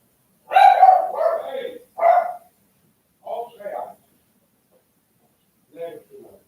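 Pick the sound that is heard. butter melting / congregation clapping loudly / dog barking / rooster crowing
dog barking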